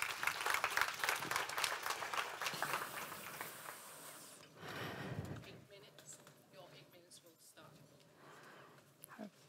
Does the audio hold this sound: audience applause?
yes